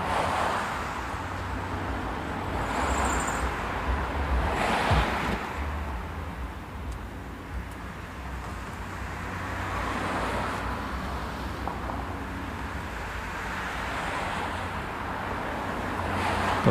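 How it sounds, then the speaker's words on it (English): Steady street traffic on the busier north side of a city block, a continuous low roar of passing cars with gentle swells as vehicles go by, heard at a distance with some wind. "You can tell that the north side of the block has a little bit more traffic."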